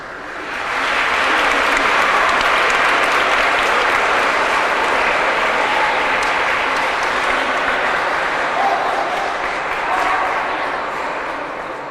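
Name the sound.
audience applause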